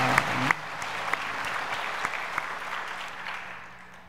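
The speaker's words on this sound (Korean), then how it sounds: "우리 하나님 앞에 감사와 영광의 박수 한번 올려드리겠습니다" Applause from a church congregation during a Wednesday worship service, a dense steady wash of clapping with a few sharp claps near the start, fading gradually toward the end.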